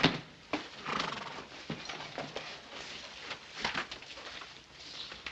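Horse at a Western frontier town, hooves clip-clopping near with a brief whinny or snort amid scattered movement and background noise, no talk.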